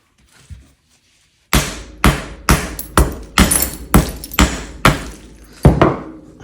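A hammer strikes repeatedly at thick glass wrapped around a concrete vase mould, giving about nine sharp, loud, evenly spaced cracking blows after a short quiet start.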